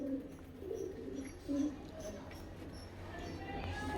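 Pigeons for sale coo softly nearby, a few low throaty calls over a faint background murmur.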